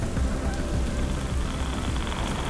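A worsening rain storm brings steady, dense rainfall drumming on surfaces nearby, a continuous even patter with low rumbling underneath.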